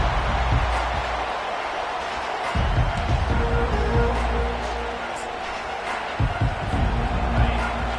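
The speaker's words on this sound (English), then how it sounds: "this home crowd is fired up and ready to make a difference today" A home crowd at an SEC championship college football game keeps up a steady roar of cheering, swelling now and then, under a commentator calling the play.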